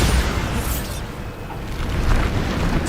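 A Bombarda spell explosion in the video game Hogwarts Legacy: a broad, loud rumbling blast that fills the clip, swelling and rolling on for a few seconds with no talk.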